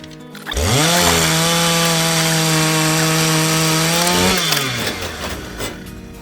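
A power saw cuts through perished radiator pipes on a vintage Ferguson tractor under restoration, a loud sustained whining drone that rises, holds steadily for about four seconds, then winds down.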